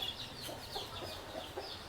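Clucking from a one-year-old Kakinemili rooster, a heavy Pashchima Godavari bird of about 3.5 to 4 kilograms, in soft repeated bursts at moderate distance with no one talking.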